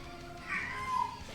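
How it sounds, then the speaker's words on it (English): A cat meows once, a drawn-out mid-pitched call rising and falling, fairly close, over a quiet background hum with no talking. "Oh, the cat's talking."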